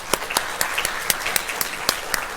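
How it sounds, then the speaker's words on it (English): An audience at an extension office transition ceremony in Owensboro gives a round of applause, with steady dense clapping and a few sharp nearby claps standing out, no one speaking. "so let's give them a round of applause."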